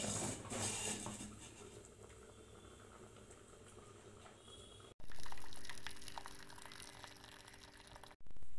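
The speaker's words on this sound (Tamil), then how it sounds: "தண்ணி வந்து வடிச்சு எடுத்துறலாம்" Water poured off a cooked pot of greens or ragi, made in a clay pot, with steady running and splashing liquid, loud at the start and again after a brief pause near the end.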